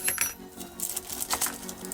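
Small metal Allen keys and thread adapters for a camera suction mount clink and rattle lightly as they are taken out, a few quick close taps and jingles with no talking.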